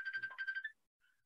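A phone rings with repeated incoming calls, a quick series of bright trilling electronic pulses followed by a fainter single tone after a short pause, heard alone.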